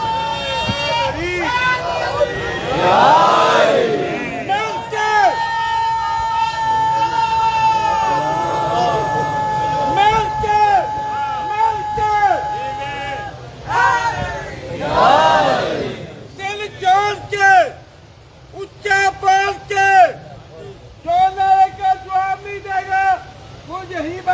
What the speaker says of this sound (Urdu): ایک نعرہ حیدری کا حق بنتا تھا, آپ کو یہاں کہنا چاہیے تھا.